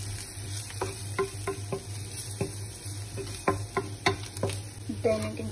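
Red chili and coriander powder sautéing in a pan for aloo palak, a soft sizzle broken by repeated sharp spoon taps and scrapes against the pan, with no talk.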